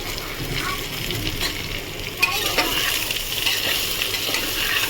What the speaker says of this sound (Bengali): ঝিঙা দিয়ে নাড়াচাড়া করে নিলাম